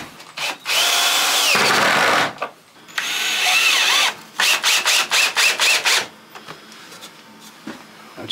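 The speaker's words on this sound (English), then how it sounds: "I'll have to swap over to this drill now." A power drill at work during a cottage renovation: one long, loud whine, a pause, then a string of short, sharp bursts close by, followed by quieter handling noise.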